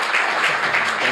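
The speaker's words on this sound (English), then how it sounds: "I suggest another applause for a fantastic, not only lecture, but also answers" A seated audience at an executive innovation forum applauds after a lecture, with dense, continuous clapping from many hands at a steady, fairly loud level and no speech over it.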